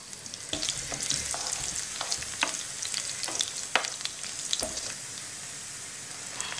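Crackling sizzle of garlic cloves frying in hot cooking oil, with scattered sharp pops and a continuous hiss throughout, no voices.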